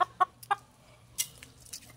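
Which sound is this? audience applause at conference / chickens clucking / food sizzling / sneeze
chickens clucking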